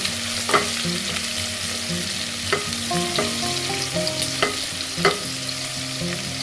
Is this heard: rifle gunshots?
no